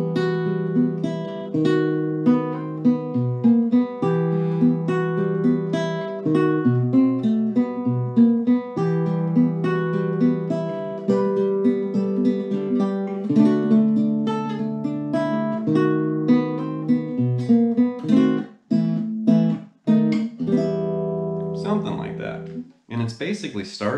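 A classical-style guitar passage in E, leaning on a sharp-11 A sharp against an open B before resolving; continuous picked notes ring steadily throughout, played alone with no talking.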